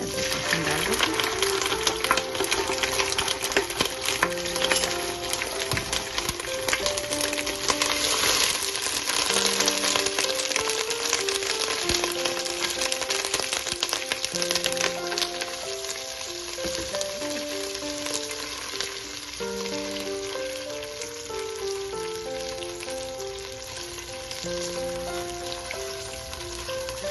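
Onion with ginger-garlic paste frying in a pan, a steady crackling sizzle with occasional stirring, partly covered by soft background music and some talking.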